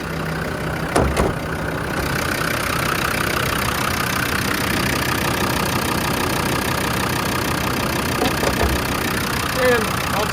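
A Land Rover Defender 90 with the TD5 diesel engine idles in a close, steady low rumble with an even, smooth rhythm, a few thumps near the start and a voice speaking faintly at times.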